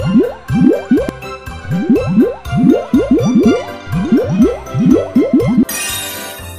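Bubbly, squishy cartoon squelches repeat in quick bursts, loud and close, as teeth are cleaned in a Pororo dentist video game, ending in a brighter chime-like flourish.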